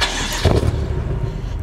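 A tuned BMW M6 engine cranks and catches, its low rumble surging once before settling into a steady, close idle, with no one talking.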